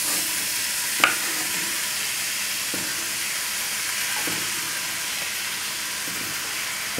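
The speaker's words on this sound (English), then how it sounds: "we're going to saute the, we don't want to brown the onions, we just want to make them translucent" Onions sautéing gently in a pan for a creamy onion spinach soup, a steady close sizzle throughout with a sharp utensil clack near the start and a few soft stirring scrapes.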